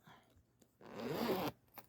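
A Ziploc bag holding crochet supplies is unzipped in one smooth, close rasp lasting about a second, with faint handling noises before and after.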